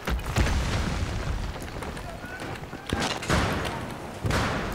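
Grenade explosion in a shooter video game, heavy booming blasts and rumbling thuds against a constant noisy battle background, with a few sharp bursts standing out near the middle and end.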